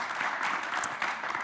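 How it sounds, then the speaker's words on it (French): Audience applause at a sailing conference on the IMOCA class, a brief spell of moderate, fairly close clapping from a small crowd, steady and dense throughout the short moment. "vous pouvez les applaudir"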